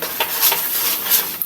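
Sticky rice kakanin mixture with sugar being stirred in a pan over low heat, giving a steady scraping, sticky swish with a few sharper utensil scrapes against the pan, close and moderately loud.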